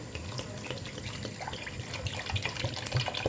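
Tap water runs and splashes into a cooking pot while couscous royal is made, a soft, steady stream with small irregular splashes throughout.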